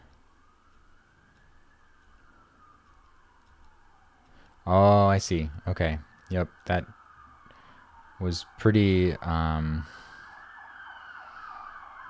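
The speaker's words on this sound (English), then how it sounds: "apologies for the siren" Siren passing outside, a faint wailing tone rising and falling steadily in the distance while someone talks over it indoors.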